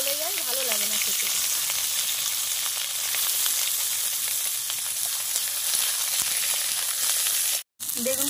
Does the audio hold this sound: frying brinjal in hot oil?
yes